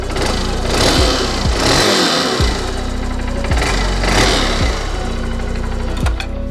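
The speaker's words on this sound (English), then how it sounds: "So nice quiet engine there." A restored Honda CB125F GLR 125 single-cylinder motorcycle engine runs close by, idling with a steady putter and a few brief blips of throttle, no voices.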